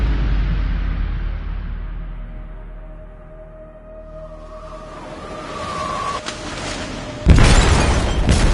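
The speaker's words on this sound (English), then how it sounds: "They detonated an explosive in the hold." An explosive detonates in a ship's hold in Detroit: Become Human: a low rumble swells over several seconds, then a loud, sharp blast bursts out near the end.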